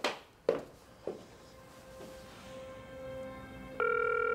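A telephone handset being dialed gives a few sharp clicks, then a steady tone is followed by a louder sustained multi-tone signal, all close and without talk.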